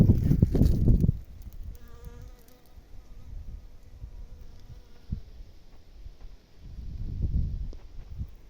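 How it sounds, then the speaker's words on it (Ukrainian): Bees buzz around flowering sunflowers in a field, a faint steady insect whine heard between louder gusts of wind rumble at the start and end, with occasional light taps. "Пчоли працюють, дивіться, а це ж все пчела, бачите."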